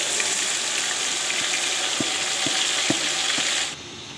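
Marinated chicken for chicken pulao biryani fries in a pan with a steady, bright sizzle, punctuated by several light spoon taps while stirring, before the sound drops away abruptly at the end.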